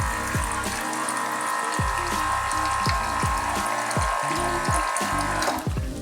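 Water runs steadily from an insert tap while someone cooks, a continuous close splashing stream with no speech.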